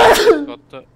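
One sharp, loud sneeze right at the start, followed by a couple of brief voiced sounds as it trails off into quiet.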